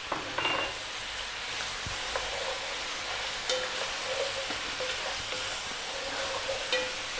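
Chopped garlic and white onion frying in a pot, a soft continuous sizzle with occasional light stirring clinks and scrapes, heard close with no talk.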